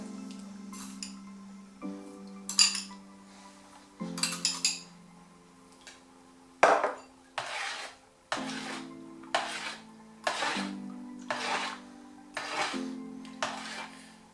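A metal tablespoon clinks and scrapes against a container in separate bursts while measuring salt into water for a brine, with a sustained ringing hum behind them, close and fairly quiet.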